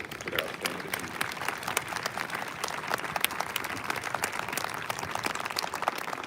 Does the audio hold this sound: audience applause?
yes